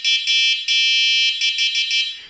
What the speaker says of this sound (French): je vais vous faire écouter le son du klaxon